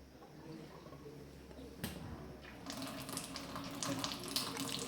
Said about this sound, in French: Je vais mettre directement en route la machine. Elle va se remplir.